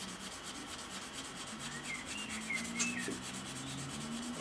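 Sandpaper rubbing on a plastic part of a Tamiya 1/32 F-16CJ scale model kit, steady close rhythmic scratchy strokes with no talk.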